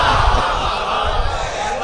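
A crowd at a religious gathering raises loud slogans together, a dense, continuous roar of many voices filling the space without pause.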